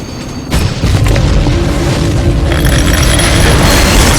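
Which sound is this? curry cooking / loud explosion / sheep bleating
loud explosion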